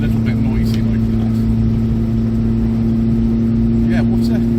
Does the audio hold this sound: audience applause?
no